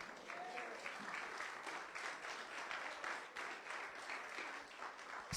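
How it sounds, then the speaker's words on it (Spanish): Applause from a church congregation fills the sanctuary, steady and sustained for several seconds, with scattered voices and a faint whistle mixed into the clapping crowd. "dele un aplauso al Señor"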